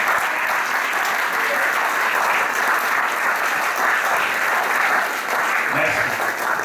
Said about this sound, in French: applaudissons les gens